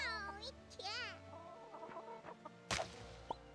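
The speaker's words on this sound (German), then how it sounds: "Huhn!" A chicken in the video game Fae Farm clucks in a short burst of bright, choppy calls, fairly close and clear, followed by a quiet stretch and a brief click.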